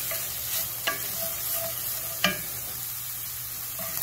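Ground beef frying in a pan with garlic salt and Cajun seasoning sizzles steadily while being stirred, with a few sharp scrapes and clicks of the utensil against the pan, close and fairly quiet, no voices.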